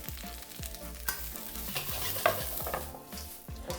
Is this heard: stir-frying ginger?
yes